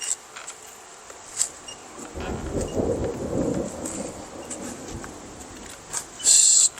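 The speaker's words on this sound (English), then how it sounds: "Storms are coming." An outdoor thunderstorm with a low, rolling rumble of thunder that swells and fades over a few seconds, a soft wash of rain throughout, and a brief sharper burst near the end.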